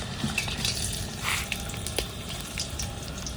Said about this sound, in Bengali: ওই তেলেই গোটা গরমটা দিয়ে নেবো।